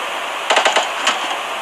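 Burst of gunfire in PUBG Mobile during a championship tournament match, a quick cluster of five or six sharp shots followed by a couple of sparser reports over a steady game-noise bed.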